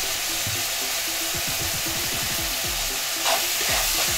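Lamb chops sizzle and fry steadily in a hot pan for Nigerian lamb asun, with short stirring scrapes over the crackle, close and fairly loud.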